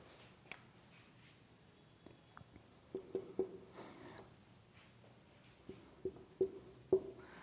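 Handwriting examples during a class 10 math lesson on prime numbers: quiet pen strokes on paper, with small scratchy bursts and a few sharper taps clustered near the end, close and faint, with no talking.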